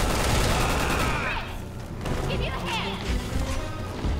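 Resident Evil 6 gunfire pours out in loud, dense bursts, hard rapid shots and crashing impacts filling the scene before easing into scattered blasts, with a voice speaking over parts of it.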